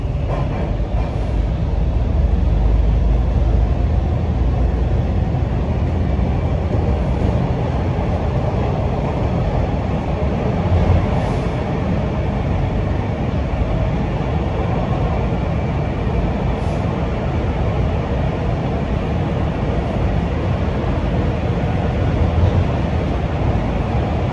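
A TTC Line 2 Bloor-Danforth subway train rumbles loudly and steadily as it runs into Bathurst station, heard from inside the car as a continuous low roar with faint squeals and no talking.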